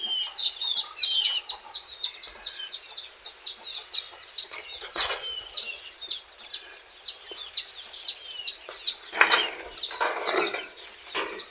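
Hens cluck repeatedly in a backyard chicken coop, a steady run of close, rhythmic calls with a few louder squawks near the end.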